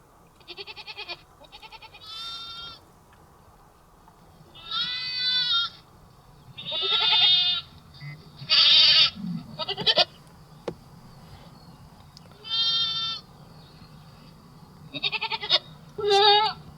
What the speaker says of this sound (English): Let me pull up some goat sounds.